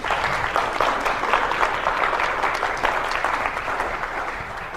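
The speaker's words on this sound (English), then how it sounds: "let's give them a round of applause." A crowd at a church fundraiser show claps together, a full, even roar of hands that runs steadily from start to finish, fairly close and loud with no voices on top.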